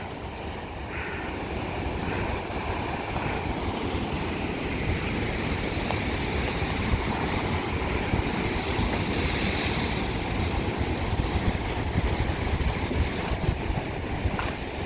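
Ocean surf rolls onto Black Sand Beach in Maui, a cove beside a trail of volcanic rock, as a steady, loud wash of waves mixed with blustery wind noise and no voices.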